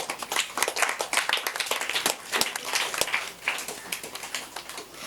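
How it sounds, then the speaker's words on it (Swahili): A church congregation breaks into lively applause, many hands clapping densely and unevenly for several seconds at close range. "Mjipigie makofi wenyewe."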